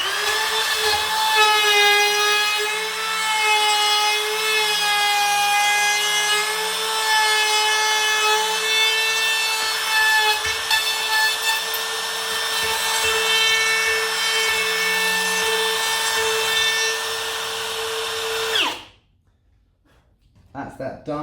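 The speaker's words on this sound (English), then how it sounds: "So I've set that up, so we'll route that out first." Router cutting a door latch recess into wood, a steady high whine with strong tonal harmonics running loud for most of the clip, then cutting off abruptly near the end.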